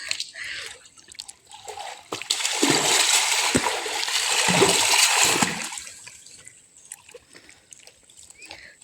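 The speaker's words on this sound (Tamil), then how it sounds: "நீங்கள் மட்டும் நீச்சல் அடிக்கிறீங்க." People swimming in a village pond on a hot day make a sustained burst of splashing and churning water, rising for a few seconds and then fading. Scattered small splashes and drips come before and after.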